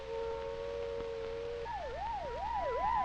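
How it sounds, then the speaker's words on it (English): A civil defense siren sounds the take-cover alert: a steady tone first, then a loud wavering wail that rises and falls in regular sweeps. "A wavering siren tone is the take cover signal."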